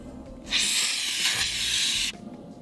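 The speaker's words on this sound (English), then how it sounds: "taking the insulating foam and then spraying it on the cans" Insulating foam sprays from an aerosol can onto cans, giving a loud, steady hiss that starts abruptly, lasts about a second and a half, then cuts off.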